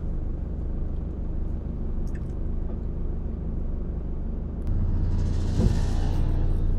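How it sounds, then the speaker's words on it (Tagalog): Large trucks and trailers pass at night on Magsaysay Boulevard, a continuous low rumble of heavy engines that swells louder partway through. "Kasabay po natin ang mga malalaking truck,"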